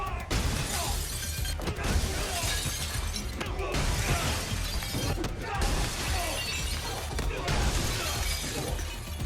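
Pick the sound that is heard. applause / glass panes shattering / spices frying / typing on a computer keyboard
glass panes shattering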